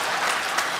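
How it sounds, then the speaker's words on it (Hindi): An audience claps at a live talk show, a dense, steady burst of crowd applause that fills the whole moment. "ये जिन लोगों ने तालियां बजाई है"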